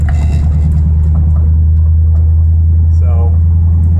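A V8-swapped Mazda RX-7 rolls down the road in second gear, its engine a loud, constant low rumble heard from inside the car, with a faint voice briefly rising over it.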